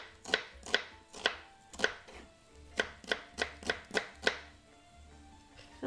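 A knife slices vegetables thinly lengthways on a board for Georgian adjapsandal, a run of about eleven crisp, evenly spaced cuts, close and clear with no talking.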